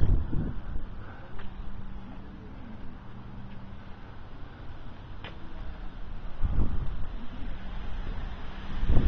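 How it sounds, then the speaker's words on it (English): Gusty wind buffets the microphone outdoors on a sunny Florida day in low rumbling bursts, easing in the middle and picking up again toward the end. "A bit windy though."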